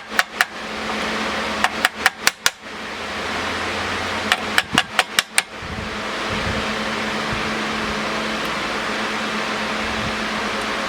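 Metal hammering on an old McCulloch Mac 1-10 chainsaw, a bracket tang beaten back against a bolt: two bursts of sharp, close metallic strikes, about four then four, over steady fan-like background hum.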